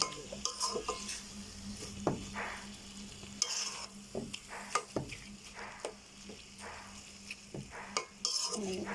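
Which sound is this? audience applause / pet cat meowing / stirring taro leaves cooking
stirring taro leaves cooking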